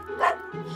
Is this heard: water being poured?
no